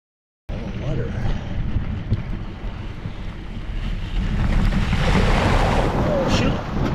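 A bicycle splashes through a creek water crossing on a backcountry route near Stagecoach Lake and Kremmling, with rushing, sloshing water and wind buffeting the microphone, the splashing growing louder toward the end.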